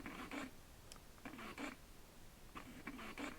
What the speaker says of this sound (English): It does have an internal motor,